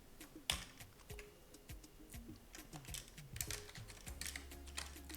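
Typing on a computer keyboard while entering database trigger code, a steady run of light, close key clicks in irregular bursts, with no talking.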